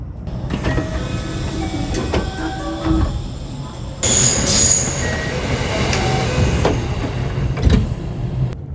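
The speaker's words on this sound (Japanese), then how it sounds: "ジャンクション駅尼崎駅に到着です。" A JR West train rolls into Amagasaki junction station with rumbling wheels, brief high-pitched brake squeals and clanks as it slows, heard close from on board.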